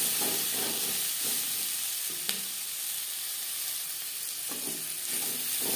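Onion and mixed vegetables for a masoor dal, mixed in a hot pan under a steady loud sizzle, with soft scraping strokes and one sharp utensil tap.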